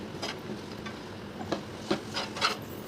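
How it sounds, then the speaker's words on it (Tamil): Peanuts being stirred into thick palm jaggery syrup for peanut burfi, heard as faint, irregular scraping and rubbing strokes of a spoon in the pan, close and quiet, no voices. "நம்ம பிடிச்சி வச்சுருந்த வேர்க்கடலை இதில் சேர்த்து நல்லா மிக்ஸ் பண்ணிக்கலாம்"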